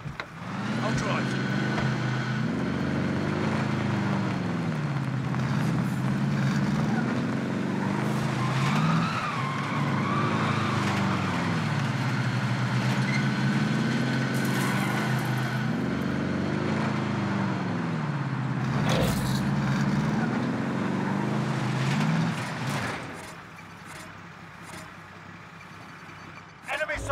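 Game vehicle driven in Call of Duty: Warzone, a steady engine drone rising and falling in repeated revving cycles, loud and continuous before cutting off near the end, with occasional voices over it.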